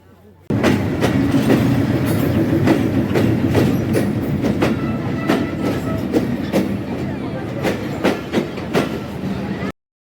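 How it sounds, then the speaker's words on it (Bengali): Ruposhi Bangla Express passenger train rolling into a station platform at a Bangladeshi junction, loud continuous rumble with rhythmic clickety-clack of wheels over rail joints, close by, starting abruptly and running steadily throughout. "দুই নম্বর প্ল্যাটফর্মে প্রবেশ করলো আমাদের রূপসী বাংলা এক্সপ্রেস"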